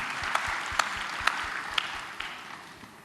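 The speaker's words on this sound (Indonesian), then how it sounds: "Kita berikan tepuk tangan." Church congregation applauding during a sermon, a steady moderate wash of clapping with a few sharper claps standing out, gradually fading toward the end.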